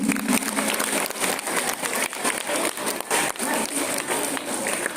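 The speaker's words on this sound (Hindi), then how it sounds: "उनके लिए भी तालियां बजाइए।" Audience applause for a Gujarati song performance at an Independence Day celebration, a steady wash of many hands clapping with some murmur, sustained throughout.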